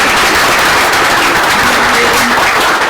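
A crowd at a roundtable panel on watershed sanitation gives a speaker loud, sustained applause, a dense, even wash of many hands clapping close by and without pause.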